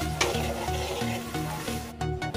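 Meat and eggs fry in a pan for macaroni, giving a steady close sizzle with stirring scrapes and a brief clatter near the end.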